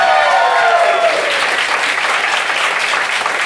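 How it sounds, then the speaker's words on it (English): A comedy club audience applauds loudly for stand-up comedians, dense sustained clapping with whoops and cheers rising over it early on, continuing strongly throughout. "That was so much clapping"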